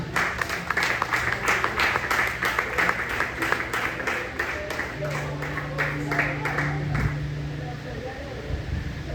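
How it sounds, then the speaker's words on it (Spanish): Church congregation applauding during a Spanish-language sermon, a steady patter of clapping that fades toward the end, with low sustained tones and a voice coming in underneath. "Denle un aplauso a Dios en esta mañana"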